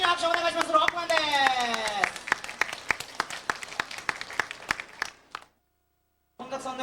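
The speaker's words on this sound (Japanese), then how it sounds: "大きな拍手お願いします。" An audience at a Capcom fan event applauds for Mega Man, a dense burst of clapping that thins into scattered claps and stops; a voice speaks over the start, and sound returns at the very end.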